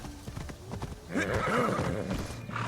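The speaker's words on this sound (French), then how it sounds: "On va arrêter notre cheval ici, on va y aller à pied." A horse in the video game Assassin's Creed Shadows clip-clops at a gallop and then gives a clear whinny.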